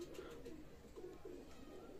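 Pakistani high-flyer pigeons at a loft give soft, low cooing calls in a few rounded bursts over a steady background hum, with no one talking.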